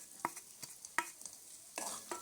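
Almonds, cashews and chopped figs are stirred in a pan, producing a few soft, spaced scrapes and light rattles, faint and close, with no speech.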